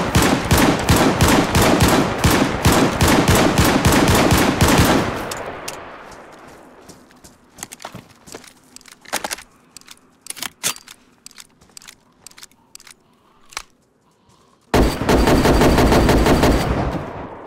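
Sustained rapid automatic fire from a DMR rifle in the DayZ video game, a loud continuous burst, then scattered single shots and quieter clatter, before another intense burst of fire near the end.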